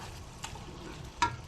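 Whole cinnamon, cardamom, cloves and bay leaf roasting in a pan, a soft steady sizzle with two brief scraping stirs, quiet and close.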